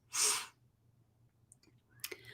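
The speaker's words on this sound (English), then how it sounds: "I have to sneeze." A single sharp, close sneeze bursts out at the start, followed by quiet breathing and a small click.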